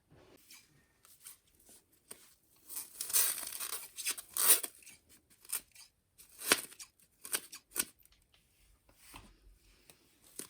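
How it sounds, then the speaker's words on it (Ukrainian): Scissors snip and slice through paper in irregular bursts, close and crisp, with quiet pauses between cuts. "На цьому етапі дуже важливо мати гарні ножиці, щоб вони дуже гарно різали."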